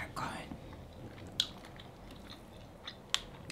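Someone bites into and chews a croissant up close, with a few sharp crunchy bites and quiet chewing between them, under faint murmuring.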